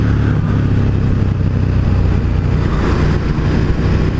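A 2018 KTM 1290 Super Duke being ridden, its engine a steady loud drone mixed with heavy wind rush, constant throughout with no pauses.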